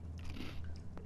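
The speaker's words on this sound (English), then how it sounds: "let me take a bite of my cookie" Someone bites into and chews a crunchy cookie close to the microphone, a cluster of dry crackling crunches over a low steady hum, with no talking.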